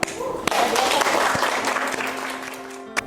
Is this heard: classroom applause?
yes